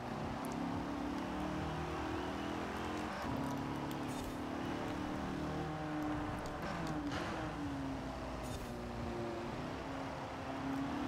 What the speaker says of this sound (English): Did I just hear a turbo kick off?